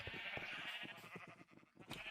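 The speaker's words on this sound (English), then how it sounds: "We'll go up to the sheep farm here." Sheep on a sheep farm in the Minecraft video game bleat repeatedly, the calls overlapping in quick succession throughout, steady and close, with no talking.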